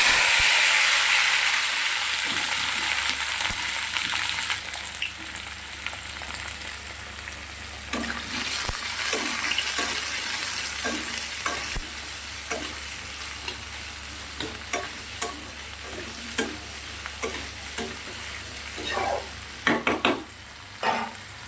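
Chopped potato, tomato, onion and garlic sizzle and hiss steadily in a hot pan, with repeated scraping and stirring strokes growing more frequent toward the end.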